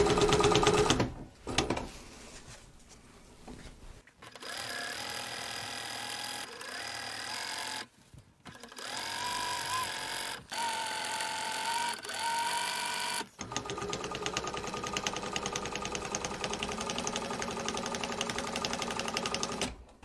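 A domestic sewing machine stitches a zigzag across a quilt for a nighttime landscape, running in loud continuous bursts with brief stops between runs and no talk over it.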